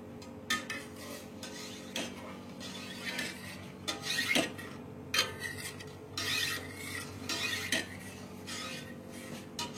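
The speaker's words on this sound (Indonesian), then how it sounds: "Kita aduk sampai mendidih." A pot of liquid with salt and pandan leaves is stirred toward a boil for selendang mayang, giving steady scraping and clinking of a utensil against the pot with rhythmic rubbing strokes and occasional sharper knocks, close and continuous without talking.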